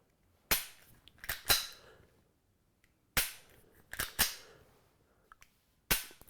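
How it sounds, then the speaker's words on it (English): Handgun dry fire practice with a dry fire magazine, a series of crisp close clicks from trigger pulls and resets, spaced in small uneven groups with quiet gaps between. "In order to reset the trigger, I need to, every single time, pull that back."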